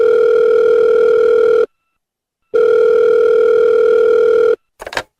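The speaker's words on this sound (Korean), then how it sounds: "전화를 한번 해봐야 되겠네." A telephone dial tone sounds twice as a call is placed, each a loud steady tone lasting about two seconds with a short silence between, followed by a brief click-like burst at the end.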